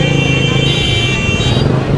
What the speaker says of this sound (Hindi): हॉर्न की आवाज़ें आ रही हैं